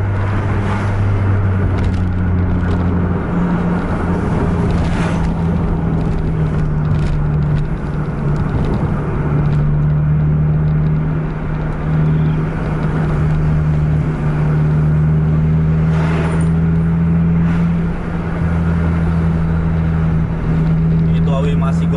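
A Scania bus chasing a Volvo bus at around 140 km/h, its engine droning loudly and continuously with a steady strained whine. Road and wind noise run underneath, and a voice talks over it at times.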